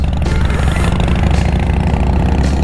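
A motorcycle engine runs steadily beneath a rider touring Mexico with a group, a loud, continuous throbbing drone with no breaks and no talk over it.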